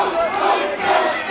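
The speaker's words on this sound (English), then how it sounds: "The crowd is cheering him on" A wrestling arena crowd at a WWE SmackDown event roars and cheers in a loud, sustained wave with shouting voices, swelling and dipping throughout.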